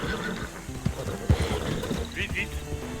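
A horse in the game Red Dead snorts and neighs close by amid hoof clatter and other game noise, while a voice talks over it.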